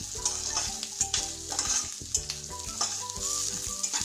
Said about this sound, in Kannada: ಹಸಿಮೆಣಸಿನ್ಕಾಯಿ ಈ ಥರ ಸುಡಬೇಕು